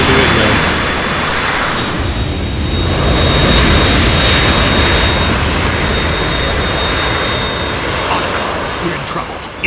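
A Harrier jet roars loud and steady in the Metal Gear Solid 2 video game, a broad continuous engine rumble that swells slightly partway through, with a high whine riding above it and no talk.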